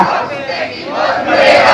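Protest crowd during a strike chanting Hindi and Punjabi slogans in unison, loud and close, with rising and falling shouted phrases from many voices.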